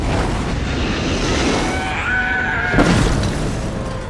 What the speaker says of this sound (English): Korean dealer blowing up Ted's grow house with a bomb